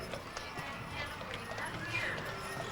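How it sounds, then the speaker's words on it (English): Horses clip-clopping as they pull a farm wagon in a 1994 Provo Freedom Festival parade, steady hoofbeats blended into crowd noise with voices talking over them throughout. "They have some gorgeous horses pulling them there."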